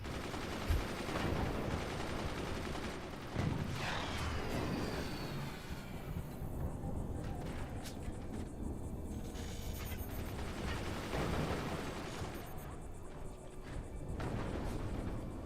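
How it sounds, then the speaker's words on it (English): Cannon and mortar fire pound a base in a competitive video game match, a continuous heavy rumble of explosions and rattling gunfire with repeated louder impacts, dense and steady throughout, with no voices clearly standing out. "The mortar hits the tech on the inside of Malm's base."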